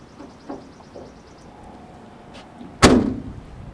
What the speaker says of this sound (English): once it gets about halfway closed, it will pull itself closed and latch completely